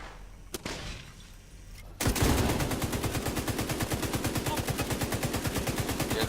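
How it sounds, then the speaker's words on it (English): A light machine gun in The Division 2 video game fires one long sustained automatic burst of rapid, evenly spaced shots after a short quieter stretch of game ambience with a few isolated clicks. "this LMG shreds enemies"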